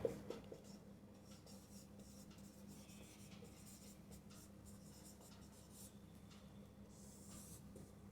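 A faint, continuous scratch of a pen writing out a maths relation in roster form, with soft strokes and small taps going on steadily at close range in a quiet room.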